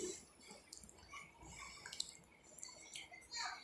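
Water runs and drips while household things are washed, faint splashing with scattered clinks and drips, uneven and close, with no talking.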